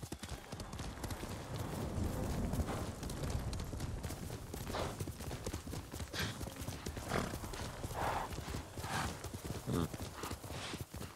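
Steady clip-clop of a horse's hooves in the video game Ghost of Tsushima, rhythmic galloping footfalls running continuously and fairly loud, with a possible brief whinny.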